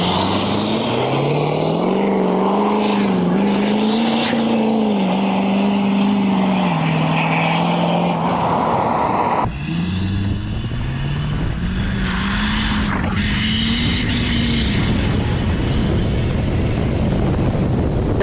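A 725 hp 6.7L Powerstroke diesel truck launches hard with its tires spinning, a loud sustained engine roar rising and falling in pitch through two pulls, close and continuous with no talk.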